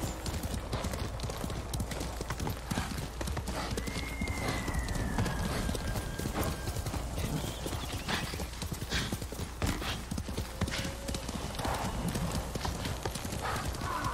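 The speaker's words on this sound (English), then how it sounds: "Gotta love magic horses in role-playing games." Rapid rhythmic clip-clop of horse hooves galloping without pause in the video game Ghost of Tsushima, with a brief whinny partway through and a low steady background.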